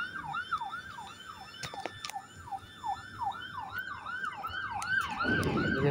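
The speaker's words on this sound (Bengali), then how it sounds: "এই যে পুলিশের গাড়ি আইতে আছে, আওয়াজ হইতে আছে।" A police car siren wails in a steady repeating rise-and-fall cycle as it approaches a fire scene in Kuwait, growing louder with engine and road noise swelling near the end.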